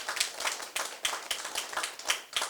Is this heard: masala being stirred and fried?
no